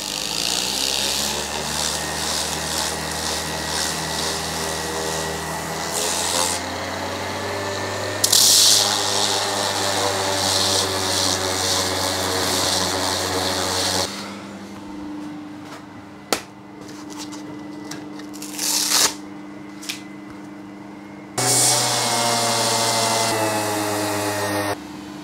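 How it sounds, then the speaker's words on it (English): An orbital sander smooths a piece of scrap wood for a DIY PC power button, its motor whining steadily with shifts in pitch and load as it runs, pauses and starts again, with light knocks between passes. "we're going to use the orbital sander for that"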